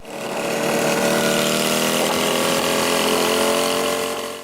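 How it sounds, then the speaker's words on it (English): A motorcycle engine running on beans labours with a steady rough, whining mechanical drone and a faint ratcheting texture, holding a constant level before dropping off at the end. "I'm still pretty sure that a motorcycle isn't supposed to be making this noise"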